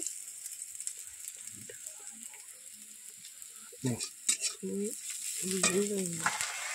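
Onions frying for a curry masala paste give a steady broadband sizzle throughout, with scraping stirring knocks and brief voice-like sounds in the second half.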